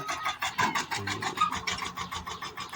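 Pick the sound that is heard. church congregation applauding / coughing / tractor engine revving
tractor engine revving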